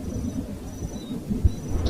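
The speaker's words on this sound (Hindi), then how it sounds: "तूफान धीमा हो गया है, लेकिन बारिश पूरे जोरों पर जारी है।" Heavy rain pours steadily with a low thunder rumble underneath and a brief sharp knock partway through.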